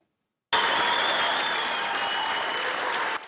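Tunisian parliamentarians break into sustained applause, a dense, loud wash of many hands clapping at once that starts abruptly and holds steady throughout.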